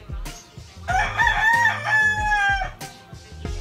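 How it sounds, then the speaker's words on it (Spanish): A rooster crows loudly and close by in an outdoor mountain setting, one long drawn-out call with a few short clucks and knocks around it. "Cantó el gallo y canté yo también"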